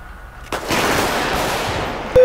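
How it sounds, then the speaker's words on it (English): Gunfire rings out in an LSPDFR police mod game: a sharp shot, then a loud, sustained rattle of rapid fire, ending with another abrupt crack. "Shots fired."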